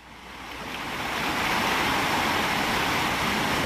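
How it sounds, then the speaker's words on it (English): Heavy rain and rushing floodwater fill Clinton Gorge in New Zealand, a dense, steady broadband roar that builds over the first second and then holds loud and unbroken, with no voices. "The rain's getting heavier and heavier"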